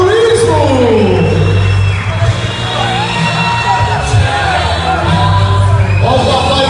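A crowd cheers, whoops and yells at a trophy ceremony, loud and continuous with layered shouts, while a host speaks over the noise.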